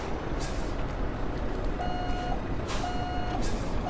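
A truck in American Truck Simulator reverses with its backup alarm beeping in a steady on-off rhythm, faint and thin over a constant loud diesel engine rumble.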